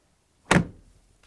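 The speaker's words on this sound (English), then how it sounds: "Now I'm going to close the door." Door of a Samsung washing machine being pushed shut during a door boot seal replacement, one sharp close thud with a short fading rattle, alone and close.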